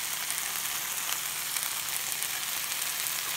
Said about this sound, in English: Give that a little bit of a stir around.